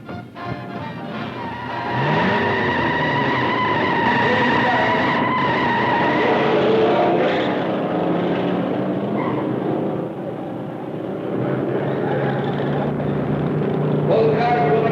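Vintage cars, including a Thunderbird, race in a 1956 hot rod film, engines roaring loud and sustained with rising and shifting tones as they speed past, a brief dip midway before the noise builds again.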